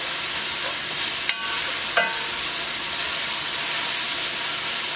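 Diced tomatoes frying in a pan with kale, a steady hissing sizzle heard up close with two sharp clinks of a utensil early on and no speech.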